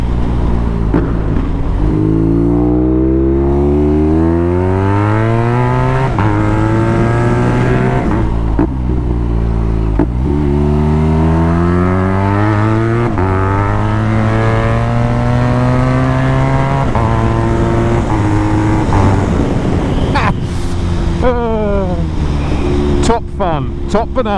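A custom BMW R nineT motorcycle with a loud exhaust roars past repeatedly, its engine note rising and falling through the revs, loud and close, with brief quieter gaps between passes.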